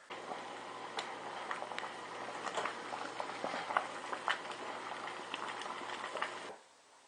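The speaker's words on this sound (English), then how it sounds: "You want this boiling, but not so hard that the boiling water goes over into the bowl." Water boiling in a stainless steel pot for distilling: continuous bubbling and ticking pops, fairly faint and close, running steadily before stopping abruptly near the end.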